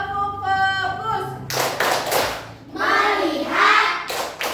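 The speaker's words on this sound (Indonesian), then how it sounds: "kita tepuk fokus dulu, ice breaking dulu sebentar ya. Ibu pimpin, tepuk fokus." Primary school class joins in a rhythmic clapping ice-breaker game, bursts of many children's hands clapping together in patterned groups, close and loud, alternating with a teacher and children chanting.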